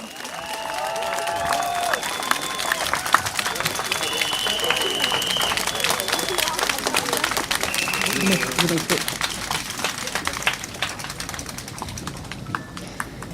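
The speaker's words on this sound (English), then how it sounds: "One more round of applause for the candidates" An audience at a PSP election rally for the Marymount SMC gives the candidates a sustained, dense round of applause with some cheering, steady and loud throughout, with voices and faint tonal sounds mixed in.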